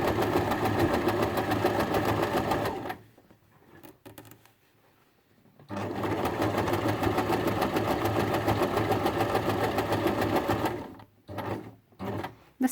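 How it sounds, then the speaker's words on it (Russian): A sewing machine stitching fabric runs in a steady, even whir for about three seconds, stops, then stitches again for roughly five seconds, followed by a few short bursts near the end. "опять подвигаем лапку и дальше строчим"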